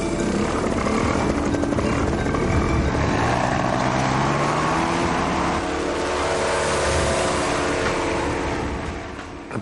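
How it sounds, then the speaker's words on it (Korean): A paramotor, a large kite-like wing driven by a small motor, drones loudly and continuously in flight over the Gobi Desert, a steady buzzing roar that slowly fades slightly toward the end. "파라모터가 최적의 비행수단이었죠."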